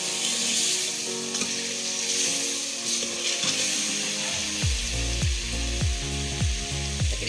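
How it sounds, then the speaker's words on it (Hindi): Meat sizzling loudly in a pot as it is fried down for yakhni pulao, a dense continuous frying hiss with rhythmic scraping strokes of a spoon stirring it in the second half, and no talking. "अब मैं इसको भून रही हूँ अच्छे तरीके से।"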